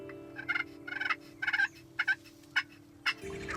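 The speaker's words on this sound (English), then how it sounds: "The sound of gobblers far and near will make the old ticker skip a beat." Wild turkey gobblers gobble outdoors, several rapid rattling bursts in turns at varying distances, some faint and distant, others nearer, over a steady low background hum.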